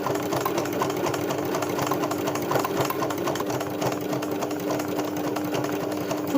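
A sewing machine embroidering a small floral cat pattern runs in a steady, fast, close mechanical whir with rapid needle stitching throughout, loud and continuous with no talk.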